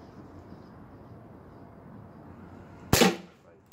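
A gas airsoft pistol fires a single sharp, loud shot that cuts through a low background hum.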